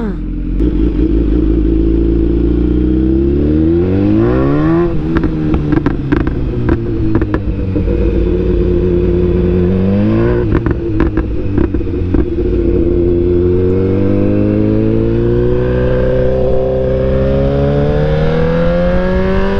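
A BMW car engine at a tuning meet revs repeatedly, loud and close, with a deep rumbling exhaust that rises and falls in pitch over several sustained throttle blips and a continuous idle in between.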